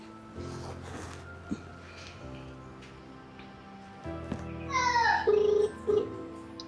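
A telephone rings with an incoming call from a daughter, a tonal ringtone melody rising near the end over a steady low background hum.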